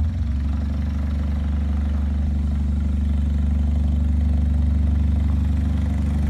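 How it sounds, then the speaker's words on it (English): A Saturn car engine with some cylinders deactivated and the gearbox stuck in third or fourth gear runs at full throttle. It gives a steady, loud, low droning hum with no change in pitch. "Let's see how fast this thing will go at full throttle."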